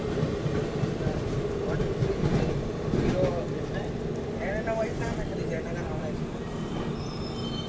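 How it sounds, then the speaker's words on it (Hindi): Jaynagar–Howrah ICF passenger train overtaking on a parallel track in flood-hit Bihar, heard from aboard the Seemanchal Express: continuous rumbling rail noise with wheel squeal and faint clicking, steady throughout, with people talking over it. "ICF ट्रेन निकल गई"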